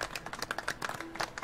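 Crowd applause in Marvel's Spider-Man, a steady patter of many hands clapping at close range, bright and busy throughout without voices over it.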